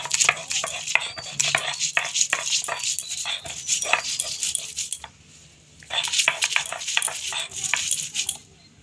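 Garlic and sliced ginger are ground into a paste by hand, making repeated sharp scraping and knocking strokes in quick uneven bursts, with a brief pause midway before the grinding resumes.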